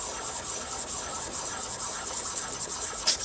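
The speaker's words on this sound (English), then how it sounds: "start off by using some 600 grit sandpaper" Lubricated 600 grit sandpaper rubs in steady figure-eight strokes over a vintage Kagen jewelry ring roller, giving a continuous close rasping scrub with rhythmic swells and no voices.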